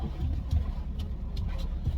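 A BMW E63 635d with the M57 diesel engine on a test drive after a hose seal change, heard from inside as a steady low engine and road rumble with faint higher swishes, no talking.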